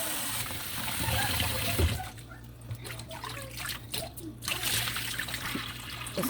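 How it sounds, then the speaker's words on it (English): Parboiled rice being rinsed by hand in a pot of water, with splashing, trickling and sloshing that comes and goes over about six seconds at close range. "I don't know how you rinse your parboiled rice, but me, this is how I do it."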